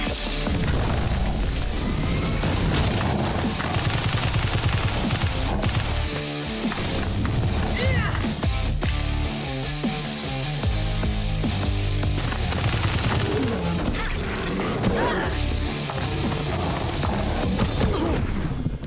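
Rapid gunfire in the video game Bright Memory as an enemy is shot, with dense, continuous bursts and heavy booms layered over loud game music and effects throughout.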